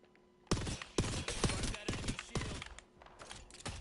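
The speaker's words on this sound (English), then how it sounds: "They're shooting at me." Video game gunfire: sharp, loud bursts of rapid shots in several clusters over a few seconds, close and punchy, with faint background game sounds between volleys.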